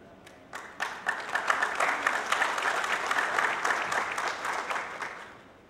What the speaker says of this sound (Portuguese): Aplausos mais uma vez.